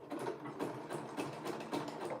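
A sewing machine stitches a zigzag seam, giving a close, steady mechanical whir with a regular pulsing rhythm of needle strokes and no voices.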